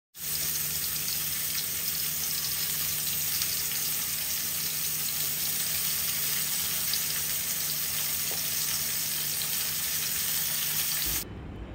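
Food sizzling and frying in a pan on a home kitchen stove, a steady, dense, fairly loud crackle that runs unbroken for about eleven seconds with no talking.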